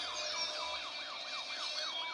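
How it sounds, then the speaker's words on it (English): A police car siren wails in a repeating up-and-down pattern, about two cycles per second, steady and moderately loud against a background hum, recorded on a phone with no talking. "as you can see, again it's there, there's a police car"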